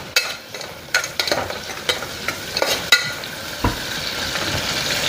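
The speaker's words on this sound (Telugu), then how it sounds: "ఇక్కడైతే ఆనియన్స్ అయితే ఇంకా ఫ్రై చేసేసుకుందాము." Onions frying in a pan for a mutton curry, with a soft steady sizzle broken by several sharp scraping stirs and clinks of a spatula against the pan, close up, with no talking.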